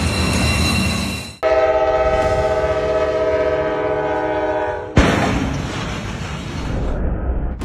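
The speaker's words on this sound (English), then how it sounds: "Train hits oversized load in Marion, Ohio." A loud train horn blares in a long sustained tone over rumbling rail noise as a train strikes an oversized load on a crossing in Marion, Ohio; a sudden crash-like burst of noise takes over and fades.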